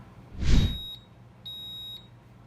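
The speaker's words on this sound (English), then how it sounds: "It just beeped at me." Two electronic beeps from a cooking blender making blueberry jelly, one short and one longer held tone, sound at moderate volume after a brief low thump, with quiet background otherwise.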